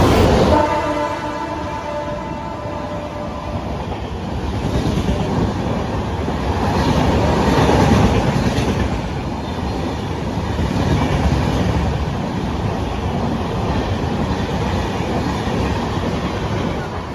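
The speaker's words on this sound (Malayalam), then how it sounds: "ഇവിടെ നിർത്താൻ പോണ ട്രെയിൻ വരുന്നുണ്ട്." A train sounds a loud horn at the start as it comes through a railway station. Then a long, heavy rumble of wagons rolling past continues steadily and stays close and loud.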